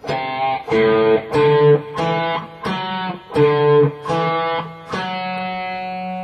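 Distorted electric guitar plays a series of separate picked notes from Bach's Cello Suite No. 1 Prelude in a steady rhythm, ending on a longer sustained tone, loud and up close.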